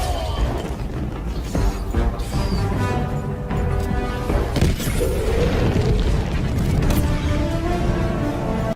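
Mini missiles exploding in Helldivers 2 during a mech demo, a dense run of booming blasts and mechanical clanks that overlap throughout at a steady loud level.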